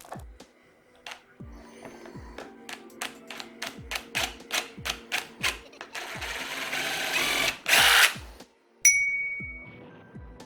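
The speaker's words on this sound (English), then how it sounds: "So now I'm going to drill a very tiny hole right into here." A small drill bores a tiny hole into the skull of a poseable plastic skeleton, with a run of rhythmic mechanical clicks followed by a short, bright whirring burst; a voice speaks briefly.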